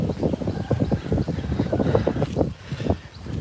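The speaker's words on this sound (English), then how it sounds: "today I'm doing this and it's a windy day." Outdoors on a windy day, wind blows straight into the microphone in loud, rumbling gusts, buffeting in uneven bursts that ease slightly toward the end.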